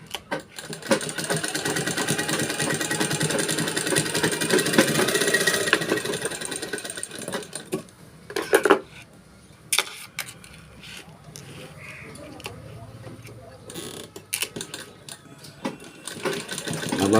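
A sewing machine stitches a gathered ruffle onto the right side of fabric, running steadily and fairly quietly for several seconds before breaking into short stop-start bursts.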